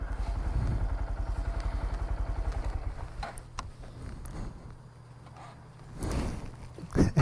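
Motorcycles, including a Moto Guzzi and a BMW, pull up on a rainy day at the Rock Store. A loud, throbbing engine rumble dominates at first, then fades before another engine swells in near the end.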